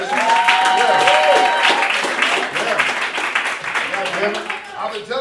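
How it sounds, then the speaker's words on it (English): Comedy show audience applause, a dense, near clapping wash that runs throughout while someone talks and laughs over it. "Get them a round of applause for that shit."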